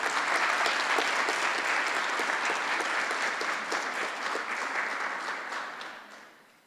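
Sustained applause from an audience at a school honours evening awards ceremony, a dense steady wash of many hands clapping that holds loud and full before gradually thinning and fading toward the end.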